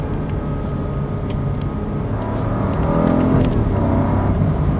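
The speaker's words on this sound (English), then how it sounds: "It honestly sounds pretty nice for a car with a 3-cylinder engine." A 2022 Opel Corsa's small 3-cylinder engine drones steadily and gradually rises in pitch as it accelerates, with road and wind noise throughout; no voices.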